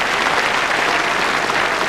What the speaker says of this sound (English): And the expected applause following from the large crowd.